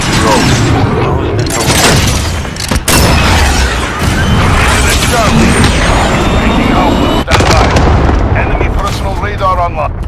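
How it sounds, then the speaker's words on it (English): Dense, loud Call of Duty Modern Warfare battle soundscape on a Domination match, a cruise missile launch rumbling amid constant booms, explosions and gunfire, with sharp blasts near the three- and seven-second marks and radio voices running underneath. "Cruise missile go for launch."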